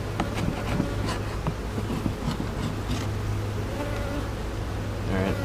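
Honey bees buzz densely around an open beehive during an inspection, a constant close drone with individual bees zipping past, and no one speaking.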